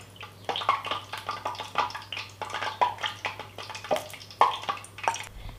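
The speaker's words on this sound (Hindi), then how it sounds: "कढ़ाई रख चुके हैं गैस के ऊपर। अब इसमें डालेंगे हम ऑयल" Cooking oil being poured into a kadhai set on a gas stove, giving a soft, close liquid splashing and gurgling with small knocks, steady but quiet over a low background hum.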